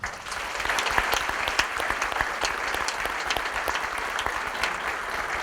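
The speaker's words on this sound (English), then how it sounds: "let's give them all one more round of applause." Sustained audience applause fills a university convocation ceremony hall, steady dense clapping from many hands throughout with no voices over it.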